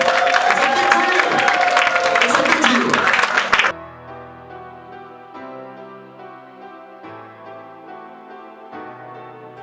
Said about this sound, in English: Let's make some noise. Let's clap.